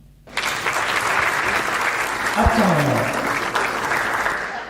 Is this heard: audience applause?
yes